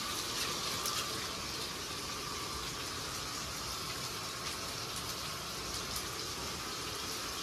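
Water pours and gushes steadily while being strained during home cooking, a continuous close rushing splash with no talk.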